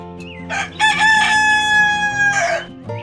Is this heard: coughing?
no